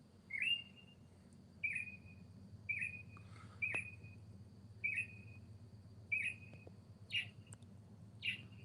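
A single bird chirping at night outdoors, sharp repeated calls roughly once a second over a faint low hum of night ambience, fairly distant and quiet.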